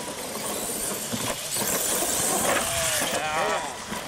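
Remote control cars racing, with a steady high buzzing whine of small electric motors rising and falling as they run. People talk over the noise.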